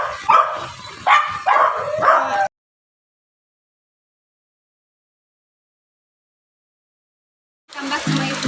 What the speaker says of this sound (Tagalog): Ingay ng aso ko